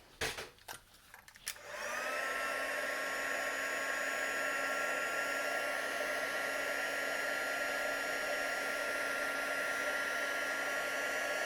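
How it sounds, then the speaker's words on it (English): A heat tool blasts hot air to set card-making ink, starting with a few short bursts before settling into a steady, whirring hiss that runs on unbroken and fairly close. "we want to set that with our heat tool"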